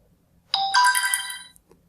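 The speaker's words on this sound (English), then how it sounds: "now the Instagram direct message notification sound will be changed on your mobile device" An Instagram direct message notification tone plays on a mobile phone: a short, bright, chime-like melodic alert lasting about a second, clear and alone over near silence.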